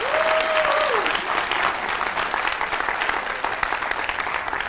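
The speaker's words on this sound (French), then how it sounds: "je vous demande de vous applaudir toutes et tous" An audience at a French business startup competition applauds steadily at a moderate level, with a short whistle-like tone near the start.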